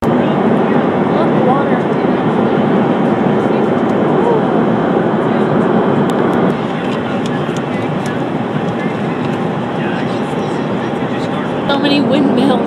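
Steady roar of an airplane, broad and continuous at close range, holding level for the whole stretch with only a slight dip midway.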